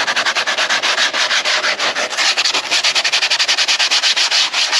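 Foam is sanded with coarse 80-grit sandpaper in fast, regular back-and-forth rasping strokes, loud and close, with no voices.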